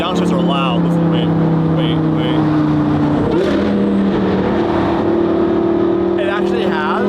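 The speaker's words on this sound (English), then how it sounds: "The downshifts are loud." Loud exhaust of a homemade off-road supercar on a first drive with a new, quickly built exhaust before a flame tune, a steady droning engine tone that shifts pitch midway as it downshifts, with people talking over it.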